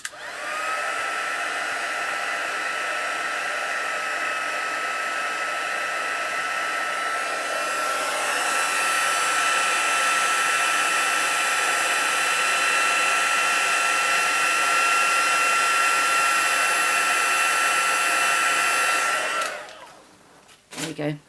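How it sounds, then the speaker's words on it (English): A handheld heat tool for embossing on a stamping craft table runs steadily for about twenty seconds, a loud continuous fan-and-heater whoosh that gets brighter partway through, then cuts off near the end. "I'm going to use my heat tool for this."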